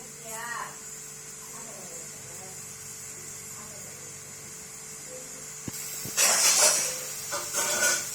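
Quiet hiss at first, then a louder bubbling, roiling sound of water boiling in a pot for Maggi noodles, close up.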